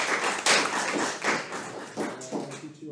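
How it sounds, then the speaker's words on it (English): Applause from a small audience after a concert of student compositions, a dense patter of hand claps that swells and dips over a few seconds, fairly close. "let's give one more round of applause to all of our student composers"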